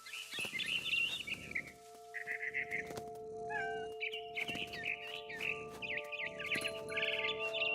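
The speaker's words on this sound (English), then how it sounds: "Then I heard chirping outside my window. It was a barn swallow going back to her nest." A barn swallow chirps in the video game What Remains of Edith Finch, with bright repeated tweets over a steady low hum, while a cat meows now and then through the scene.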